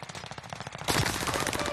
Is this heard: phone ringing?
no